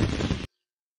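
Virtual fireworks exploding in a Poppo app activity: a dense, loud burst of crackling booms lasting about half a second, then cutting off abruptly to silence.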